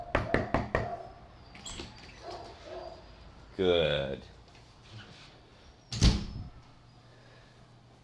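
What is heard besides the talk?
knocking on the front door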